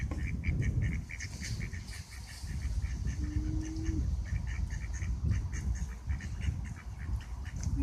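Ducks on a reservoir quack in repeated bursts of calls over a steady wash of wind and water noise, fairly close and continuous throughout.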